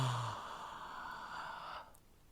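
A single long, breathy yawn close by, rising and then trailing off into quiet after about two seconds.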